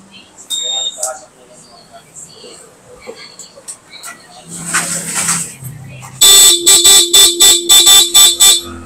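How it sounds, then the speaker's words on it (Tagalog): Talk and light clatter give way to a rapid series of loud, sharp, high-pitched beeps from the stock horn of a Honda ADV160 motorcycle, up close, repeated about eight times in quick rhythm. "Testingin mo na yung busina."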